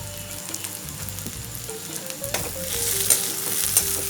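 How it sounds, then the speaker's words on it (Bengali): Chopped green chilies hitting fried onions in a hot pan while making aloo paratha filling, a close, continuous sizzle with scraping stir strokes and a few sharper crackles, no talking. "এবার আমি লঙ্কা কুচিটা দিয়ে দেবো।"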